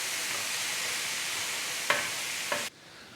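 Vegetables with smoked paprika sizzle steadily on a sheet pan while being tossed, a constant hiss broken by two brief scrapes before it abruptly cuts quieter.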